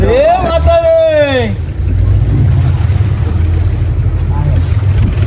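Surf from a blue sea at Malvan rushes and churns steadily, mixed with gusting wind; a voice speaks over it in the opening second before the water noise continues alone.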